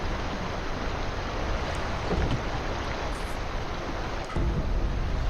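A waterfall in Sekiro: Shadows Die Twice pours with a loud, dense, continuous rushing roar, close by and without talk.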